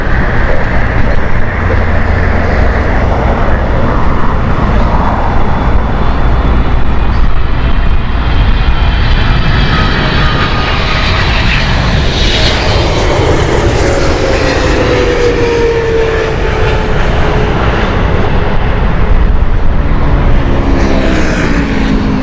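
Airliner engines roar continuously at Heathrow Airport, a loud steady rumble with a passing whine that rises and falls midway, set against distant traffic noise.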